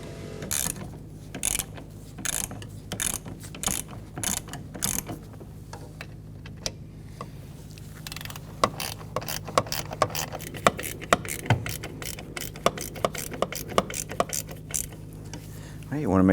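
Ratchet tightening the brake master cylinder nuts on a 2005-2021 Nissan Frontier, rapid close clicking in repeated bursts with short pauses between strokes.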